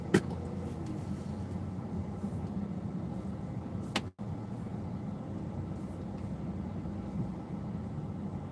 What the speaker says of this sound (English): New York traffic is the absolute worst, man.